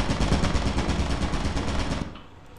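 Automated turret in Lethal Company firing a rapid, sustained stream of loud, close shots for about two seconds before cutting off abruptly, leaving a low hum.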